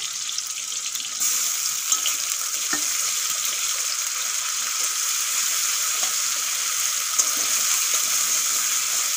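Ginger-garlic paste frying with tomatoes in an egg curry makes a steady sizzle, starting slightly quieter and then holding even, broken by a few faint scrapes and stirs.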